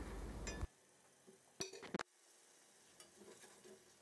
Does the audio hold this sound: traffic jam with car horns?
no